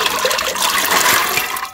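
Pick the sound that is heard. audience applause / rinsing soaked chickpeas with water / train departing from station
rinsing soaked chickpeas with water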